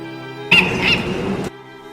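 A bird squawks in the Dear Esther video game: a loud, close, harsh one-second burst with two shrill peaks, rising abruptly out of a quiet ambient hum and cutting off sharply.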